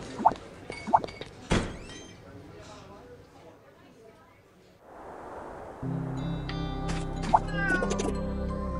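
A cat meows a few short times in the FANTASIAN video game, the calls brief and close, followed by a soft thunk and then steady game music and ambient tones.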